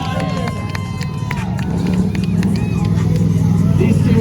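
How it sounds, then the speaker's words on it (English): A crowd at a motorcycle stunt show gives loud sustained cheering and whooping, with engine rumble underneath and scattered voices in the mix. "Make some noise for these two competing against each other"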